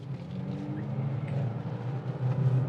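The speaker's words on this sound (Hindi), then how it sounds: "अब भागना शुरू करेगी कार।" A Honda Amaze with a CVT automatic accelerating under throttle, a steady engine drone with a low hum that holds fairly even throughout, heard from inside the car without talk.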